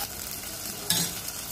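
Ginger garlic paste hits hot oil in a pan over fried onions, giving a soft continuous sizzle with one brief louder burst as the paste lands; no talking.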